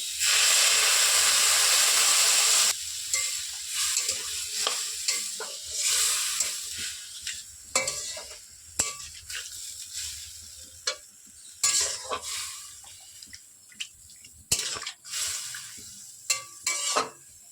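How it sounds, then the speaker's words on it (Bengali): Water poured into a pan of fried water spinach (kalmi shak) sets off a loud, steady burst of hissing steam and sizzle, then settles into intermittent stirring scrapes and pan clatter with softer sizzling between. "এবার জল দিয়ে দেবো এতে পরিমাণ মতো জল দেবো"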